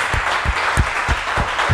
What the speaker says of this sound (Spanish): Si tú crees, dale un aplauso al Rey.